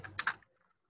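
Keystrokes on a computer keyboard while Java code is typed: a short burst of a few quick clicks up close, then quiet.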